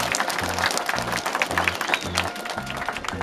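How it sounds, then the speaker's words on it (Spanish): An audience at a community inauguration of a school complex claps to welcome local authorities, steady, close clapping over a low rhythmic thumping beat, with faint voices underneath. "Un buen aplauso, a ver, por bienvenida a los señores autoridades"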